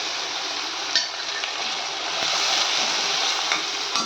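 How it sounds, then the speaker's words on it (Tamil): Onion and tomato sautéing in a pan for rava kichadi, giving a steady, close, dense sizzle with occasional soft scrapes and light knocks, no voices. "தக்காளி நல்லா வதங்கட்டும்."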